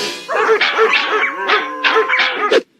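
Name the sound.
dog barking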